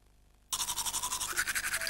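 Toothbrush bristles scrubbing against teeth in an Italian television advert, a steady rhythmic back-and-forth brushing that starts abruptly after a short quiet lead-in and continues close and loud.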